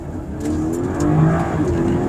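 A 2023 BMW X3 M40i SUV engine revs up steadily as it accelerates in Eco Pro mode, the exhaust staying fairly muted and smooth, with no talking.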